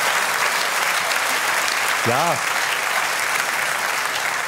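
Comedy-show audience clapping in a loud, continuous, even roar, with a brief spoken word from the stage cutting in over it.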